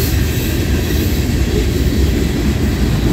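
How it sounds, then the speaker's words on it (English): A Norfolk Southern freight train led by locomotive NS 4452 rolls past in Creighton, Pennsylvania, producing a loud, continuous rumble of engine and wheels very close to the microphone. "I hear an engine."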